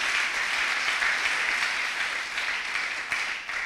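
A church congregation applauding in a steady, dense wash of clapping that holds evenly throughout without pause.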